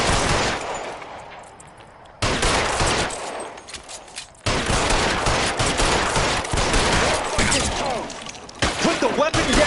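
Gunshots crack in the crime game L.A. Noire, loud, dense bursts of gunfire with breaking glass and crashes scattered across the stretch, close and chaotic.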